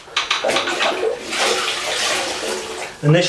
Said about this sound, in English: I'm going to wash this down now.